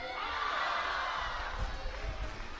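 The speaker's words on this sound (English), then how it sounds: "Gets a big cheer from the local crowd." A local crowd cheers a climber nearing the top of a lead route in the semi-finals at the IFSC Climbing World Cup in Xiamen, a steady, broad roar of voices that swells and rolls on with no break throughout.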